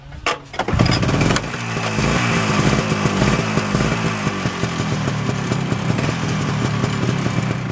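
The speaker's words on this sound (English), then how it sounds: "Start your machine and let it run for about 15 minutes" A snowmobile engine starts with a sharp cough and then settles into a loud, steady idle with a rapid, slightly uneven putter, close by and continuous, with no talking.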